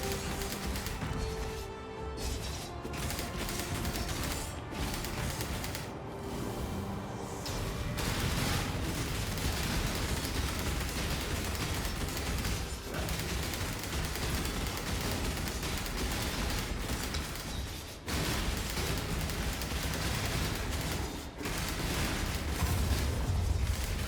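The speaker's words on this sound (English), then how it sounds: "Just fucking shrapnel grenades" Shrapnel grenades bursting in the action game Path of Exile, dense rapid volleys of crackling blasts piling up loud and continuous.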